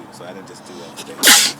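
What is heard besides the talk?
sneeze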